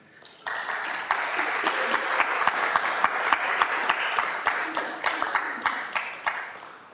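A gathering at a Buddhist temple breaks into warm applause, a dense wash of many hands clapping that swells quickly, holds steady, then thins into individual claps near the end.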